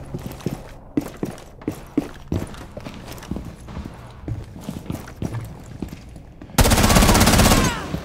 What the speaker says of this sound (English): I just accidentally shot you again